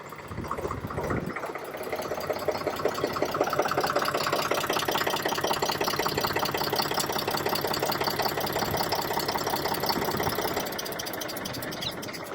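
A tractor engine running close by, a steady rapid mechanical chugging with a rhythmic knock that settles into an even idle after a brief start, no voices.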